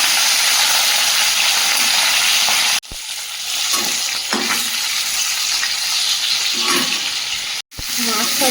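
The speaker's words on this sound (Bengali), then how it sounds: "মাছগুলো ভেজে নেব" Hilsa fish pieces fry in hot oil in a wok, a loud, steady sizzle and hiss with brief breaks and crackles as the pieces are moved, faint voices underneath.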